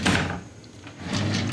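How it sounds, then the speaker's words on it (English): A drawer with a front organizer is pushed shut, a near rolling slide and bump, followed by a second sliding clatter about a second later. "So when you close the drawer,"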